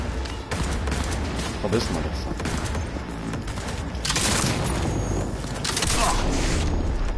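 Continuous gunfire in the video game Cyberpunk 2077, dense volleys and booms firing at the player, loud throughout with a voice speaking briefly over the shooting.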